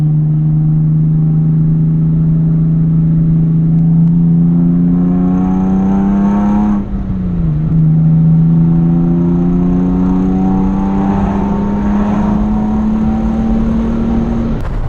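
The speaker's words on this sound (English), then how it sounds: "Man, that handles well for a Hyundai." Hyundai Genesis Coupe R-Spec engine droning loudly and steadily from inside the car, pitch climbing through gears with a brief dip at a shift midway, continuous with no talking.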